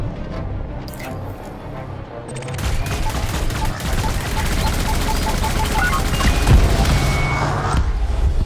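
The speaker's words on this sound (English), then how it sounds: "I'm getting shot at, so I guess I'm going to have to deal with these." Weapons fire and a rocket launcher in the space game Elite Dangerous: steady rapid shots and fusillade bursts with occasional booms, loud and sustained across most of the stretch, with no speech during it.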